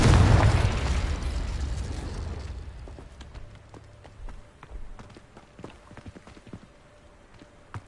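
A Confringo spell blast from Hogwarts Legacy bursts loudly at the start, a heavy rumbling explosion that decays over a few seconds into scattered faint pops and clatter.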